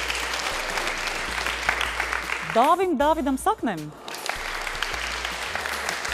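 Audience applause at a live fashion show event, a continuous clapping wash throughout while a voice speaks briefly over it in the middle before the clapping carries on alone.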